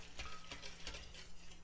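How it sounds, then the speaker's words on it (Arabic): Dough mixture for tuna and cheese savoury pastries being stirred and mixed, giving soft scraping, ratcheting texture with a few brief clinks, steady and close with no talk. "خلطوا مليح."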